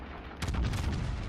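A Yamato battleship's main guns in World of Warships fire a barrage, a heavy low boom that swells in and rolls on with rumbling reverberation across the whole moment, loud and close.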